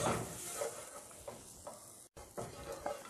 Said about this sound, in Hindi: थोड़ा फ्राई करेंगे।